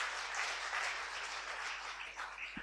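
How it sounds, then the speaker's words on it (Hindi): An audience applauds for a team at a management talk, a steady wash of many hands clapping that holds evenly throughout at moderate loudness. "तो इस टीम के लिए एक बार ताली तो बजाएं"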